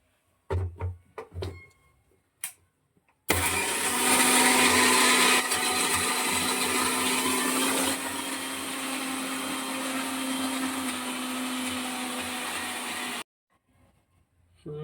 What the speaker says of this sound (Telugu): ఇప్పుడు మసాలా అయితే పట్టేసుకుంటాను.